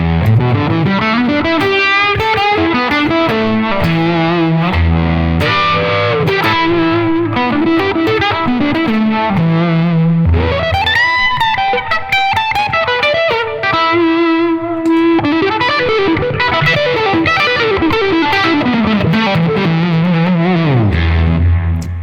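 Distorted electric guitar plays a melodic lead with echoing repeats and a swirling modulated effect, loud and continuous with brief pauses between phrases.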